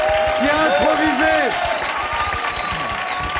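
An audience applauds an improvising performer on a French talk show, with broad steady clapping under a host's voice speaking over it.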